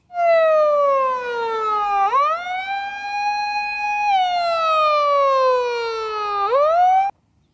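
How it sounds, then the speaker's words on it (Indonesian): A toy fire truck siren wails loudly, its electronic tone sliding up and down in long sweeps for several seconds before cutting off abruptly. "ini mobil patroli pemadam kebakaran nih teman-teman."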